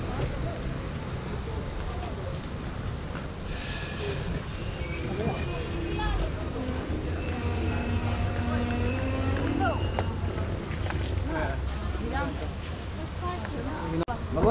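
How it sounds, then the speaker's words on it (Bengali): A train pulls into Mahur station on the Haflong–Maibang line, with a steady rumble of wheels on rail and faint metallic squeals rising midway, continuous and moderately close, with background voices from the carriage. "এখন আমাদের ট্রেনটি মাহুর স্টেশনে ঢুকলো"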